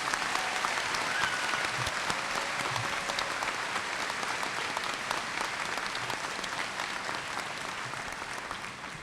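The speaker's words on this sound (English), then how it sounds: "Please now give them your applause." An audience at a 2018 high school graduation applauds the graduating seniors, a steady dense wash of clapping that holds for several seconds before easing slightly at the end.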